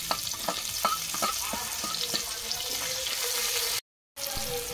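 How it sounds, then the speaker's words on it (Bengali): Chopped onion dropped into hot oil left from frying potatoes crackles and sizzles steadily up close, with scattered pops and light clinks of a utensil, no talk. "দেখুন আলু ভাজা তেলে পেঁয়াজ কুচি দিয়ে দিচ্ছি।"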